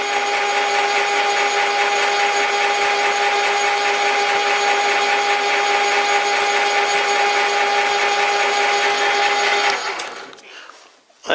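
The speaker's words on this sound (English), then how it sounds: "I spent maybe 10 minutes polishing that spindle." Machined spindle spun and polished with 540-grit sandpaper on a machine, a loud steady high whirring hum that holds for about ten seconds, then winds down and cuts off near the end.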